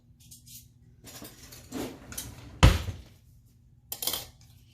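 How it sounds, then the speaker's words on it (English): Butter, paprika and pepper mixture stirred in a bowl gives scattered utensil scrapes and clinks, with a louder knock near the middle and another toward the end, close and sparse. "And now we're going to stir that up."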